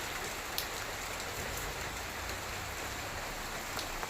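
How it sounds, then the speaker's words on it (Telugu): Steady rain falls continuously on surfaces with a constant hiss and scattered droplet ticks, moderately loud throughout with no voices. "ఇక్కడైతే వర్షం పడుతుంది."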